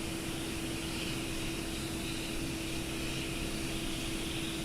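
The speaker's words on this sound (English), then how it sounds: "Yeah, Steven, we're going to drown them out with our airplane sounds, no doubt." A Fokker 28 airliner's engines in a flight simulator game make a constant, even roar with a steady hum, unbroken for the whole stretch, with no talk.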